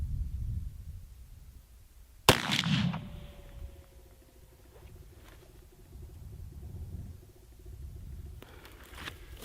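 A single loud, sharp rifle shot fired offhand with open sights outdoors, followed by a short rumbling echo. The rest is quiet low wind-like background.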